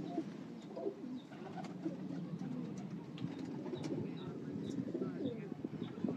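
Several pigeons of a Ferozpuri bloodline at a pigeon fancier's loft coo in soft, overlapping low calls, with occasional chirps scattered over a steady murmur of birds close by.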